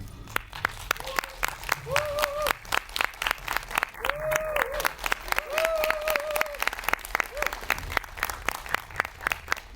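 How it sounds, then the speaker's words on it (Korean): A film-talk audience gives a warm round of applause to welcome the director and actors, steady claps running throughout while a voice speaks over them. "네 분을 뜨거운 박수로 환영해 주세요"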